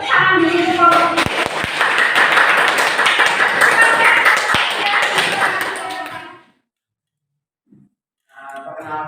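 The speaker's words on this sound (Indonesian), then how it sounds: "Tepuk tangan dulu untuk kelompok 3." Classroom audience clapping for a presenting student group, a busy patter of hands mixed with voices calling out, which stops abruptly and leaves near silence before talking resumes.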